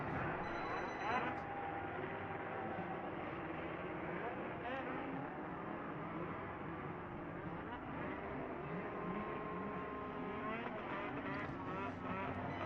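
Vintage F500 race cars at a championship final, a continuous buzzing engine drone with shifting pitch as several cars run and pass in the distance, under an announcer's talk over the public address.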